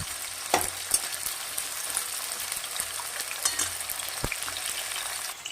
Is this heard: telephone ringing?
no